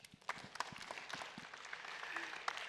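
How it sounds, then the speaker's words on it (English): Sparse, quiet clapping from a small audience welcoming a speaker at a security talk, scattered claps at a distance over a couple of seconds. "Can we have a round of applause,"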